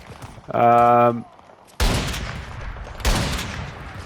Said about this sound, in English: Getting shot at already.